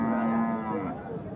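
A bull lows at a Setabganj cattle market in Dinajpur, a red two-tooth animal sold for Qurbani, giving one sustained, steady moo up close that fades over its final half-second.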